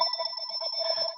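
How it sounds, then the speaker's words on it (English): A telephone rings with a short, thin electronic warble over a high steady tone, moderately quiet and heard alone. "That's the phone."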